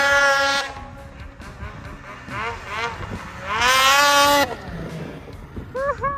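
A two-stroke snowmobile engine revs loud and close in thin snow, its high buzzing whine rising and falling in pitch through repeated throttle bursts, with people speaking between the revs.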